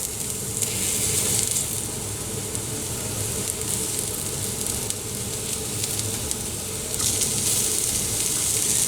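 Mushrooms and a little chopped garlic frying in butter in a pan give a steady, close sizzle that swells louder near the start and again toward the end, with no talking.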